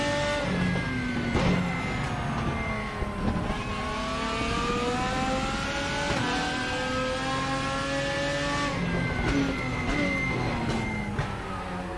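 A race car engine with a V6-like tone in the RaceRoom sim, revving and shifting through gears in rising and falling sweeps, loud and continuous with no talk.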